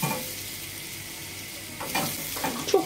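Butter and mint melting in a frying pan give a soft, steady sizzle, with brief louder stirring or scraping sounds toward the end.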